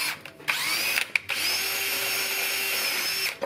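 A power drill with metal drilling bits whines steadily at close range, starting and stopping in short bursts before a longer continuous run into a Honda Civic trailing arm.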